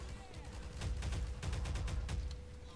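Gunfire in the shooter Half-Life 2, a steady run of rapid shots and impacts at moderate loudness, fairly quiet overall and somewhat muffled, continuing throughout with no clear talk.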